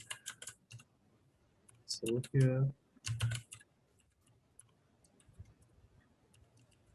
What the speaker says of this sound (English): I'm using a mechanical keyboard that doesn't actually have a direction key.